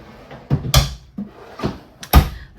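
Drawers in a 2024 Jayco Eagle 360DBOK RV slide open and shut, four distinct close, sharp knocks and thuds spaced unevenly, with quiet gaps between them.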